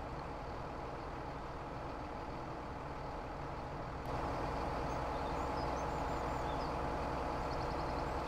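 Kenworth semi truck engine in the video game Farming Simulator 17, a steady low idling drone that holds without a break and rises slightly in loudness partway through, with no talking.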